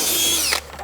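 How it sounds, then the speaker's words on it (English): Cordless drill whirring at high speed, a steady loud whine that winds down and cuts off near the end during floor joist work on a tiny house build. "Oh, is that battery gonna die on that cordless drill?"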